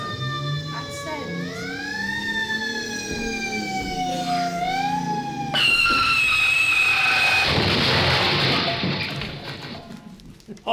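A fire engine siren wails with rising and falling tones, loud and close, then shifts into a harsher blaring sweep, with voices heard alongside.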